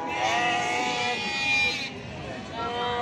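Sheep and lambs bleat steadily at a busy outdoor livestock market in Füzuli, Azerbaijan, their overlapping calls loud and close, with a continuous murmur of traders talking underneath.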